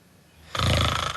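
A single loud snore, one rasping inhaled breath that swells abruptly and fades near its end, heard alone and close.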